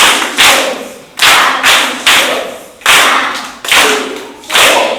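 A group of children claps in steady rhythmic bursts, about six strong rounds of loud, close applause in a row.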